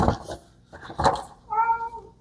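A cat meows in several close, fairly loud bursts, ending with a longer drawn-out tonal meow, heard near with no talking.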